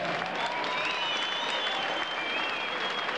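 A live audience gives a warm, steady round of applause for General John Cabatrail, a dense, even wash of clapping with a faint whistle rising over it.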